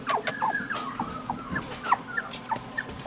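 Four-week-old Cockapoo puppies whimper and yip close by, their high, thin cries overlapping in quick, irregular bursts over a low background rumble.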